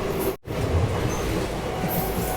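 A moving train on the Gaya Howrah Express rumbles steadily along the track, broken only by a brief dip in the noise near the start.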